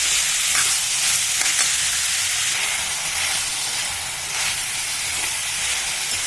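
Snake gourd pieces stir-frying in hot oil in a pan, with a steady loud hiss and sizzle that continues throughout and faint stirring scrapes underneath, close, no voices.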